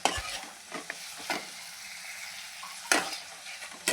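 Spiced masala with coriander leaves stirred in a pan while making chili chops, with close scraping strokes and soft sizzling, a couple of sharper scrapes standing out over a quiet background.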